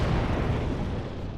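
Explosion in the Dragon Age Origins video game, a loud, dense rumbling blast with crackling debris that fills the whole moment without talk.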